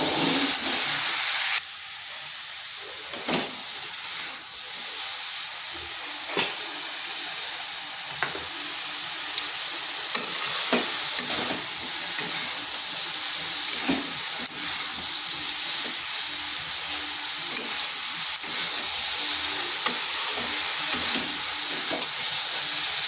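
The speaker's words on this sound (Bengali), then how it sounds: "এই টমেটো দেওয়ার পর বেশ কিছুক্ষণ আবার এভাবে নেড়ে নিচ্ছি" A cabbage mixture with tomato fries in a pan, a continuous loud sizzle and hiss broken by regular scraping clicks of a spoon stirring, close by and with no talking.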